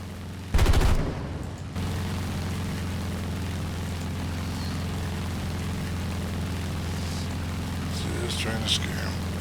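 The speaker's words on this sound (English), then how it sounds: "I throw out bullets sometimes way out there just to see if I can hit anything from distance" Aircraft machine gun fire in a flight combat video game, a short loud burst of rapid shots followed by a steady droning plane engine, with someone talking over it.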